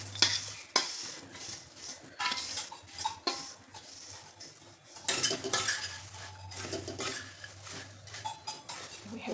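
Repeated scraping and clinking of a utensil stirring dry puffed rice in a hot metal wok, irregular strokes close up with a faint hiss underneath.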